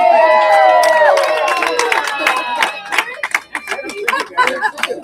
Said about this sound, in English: Can we have a round of applause for Madeline and Keith?